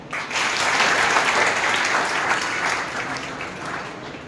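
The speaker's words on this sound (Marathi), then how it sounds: "त्यांच्यासाठी एक जोरदार टाळ्या." An audience at an institutional lecture series applauds the faculty and management team with sustained, dense clapping that holds steady for several seconds and then gradually thins out.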